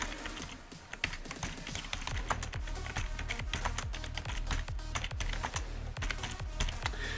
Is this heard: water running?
no